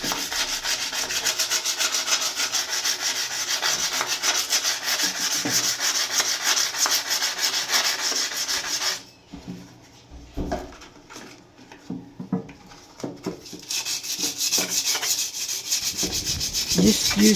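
Sandpaper rubs against rusty bathroom tile in quick, steady back-and-forth strokes. The scratching stops briefly, comes back in fitful bursts, then grows strong again.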